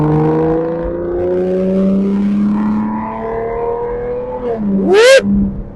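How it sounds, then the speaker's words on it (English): A sports car's exhaust note drones at a steady pitch, then the engine revs up sharply in a loud rising howl before dropping back; an Aston Martin accelerating. "Can we pick up the exhaust note on the camera if I accelerate?"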